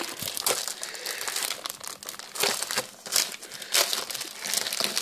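Plastic packaging around a sheet of stickers crinkled and torn open, close and loud, with bursts of rustling and crackling that continue throughout without any voice.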